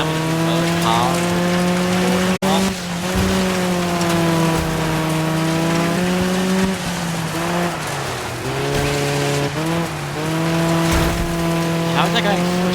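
Rally cars racing in the DIRT 5 video game, with the Ford RS200 among them: a loud, continuous engine drone with shifting pitch and gear changes, plus a sharp impact knock, running throughout.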